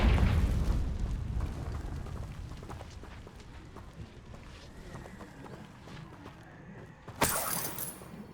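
The Confringo explosive spell goes off in Hogwarts Legacy with a deep rumbling boom that fades over several seconds, followed by a sharp, bright burst near the end.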